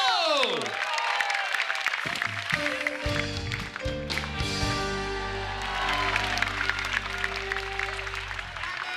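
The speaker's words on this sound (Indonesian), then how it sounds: "Tepuk tangan sekali lagi yang meriah untuk Ayu." A studio audience on an Indonesian TV show claps and cheers, with music and host voices running over the applause and a sharp hit partway through.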